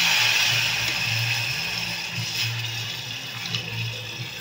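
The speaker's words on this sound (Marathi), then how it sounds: "आता आपण पाणी घालून घेऊया" Water is poured into dal cooking in a home kitchen pot, a steady rushing splash that runs continuously and fairly loud, with a low hum underneath and no talking.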